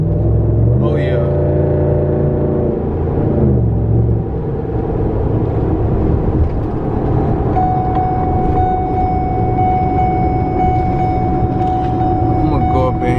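Engine of a lifted Ford F-150 pickup on 26x14 wheels, fitted with a throttle pedal controller, droning loud and steady with shifting harmonic tones as it downshifts and revs, rumbling throughout.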